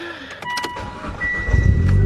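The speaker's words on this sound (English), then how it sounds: "I'm gonna go ahead and give it a nice cold start. Let the car warm up" A Ralliart car on a cold start: a few clicks and whirs, then the engine catches and settles into a deep, loud, close idle rumble.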